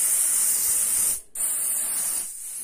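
Spray glue hisses from an aerosol can onto a heart-shaped card, a close steady spray that briefly stops, resumes, then tapers off.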